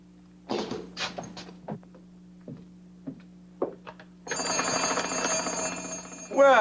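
An old 1940s telephone is handled to reach the operator: a few sharp clicks and knocks, then a steady buzzing ring that sounds for about two seconds, with a brief louder burst at the end.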